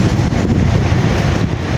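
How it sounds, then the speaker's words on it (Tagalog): Cold wind blows hard across the microphone outdoors in Baguio, a loud, steady low roar and rumble with no pauses. "Malamig, ma'am. Ang hangin."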